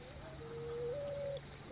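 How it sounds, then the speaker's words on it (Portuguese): A picazuro pigeon coos nearby in a soft, drawn-out hooting phrase, faint but clear over quiet outdoor background. "Quem canta muito ali próximo é a pomba asa-branca."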